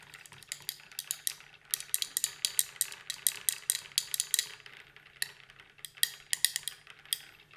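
A flower pigment mixture, chamomile lake paint, is stirred in a container, giving a steady run of quick, bright clinks and scrapes as a utensil knocks and rattles against glass, close and fairly quiet with short pauses.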